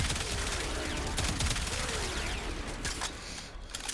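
Rapid bursts of Kuva Quartakk assault-rifle gunfire in the Warframe video game, a dense, continuous volley with impact crackle filling the moment, loud and close with no talking.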